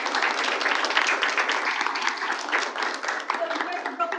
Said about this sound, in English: And one more applause for these guys.